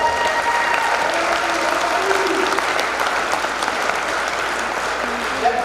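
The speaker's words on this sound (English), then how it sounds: "give him a round of applause" Sustained applause from a crowd at a school wrestling meet, steady clapping throughout with faint voices mixed in beneath it.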